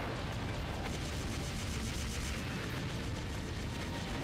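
Sustained wash of overlapping blasts and booms from the Wii video game Counter Force, a steady, loud, noisy roar lasting several seconds with no pauses or voices.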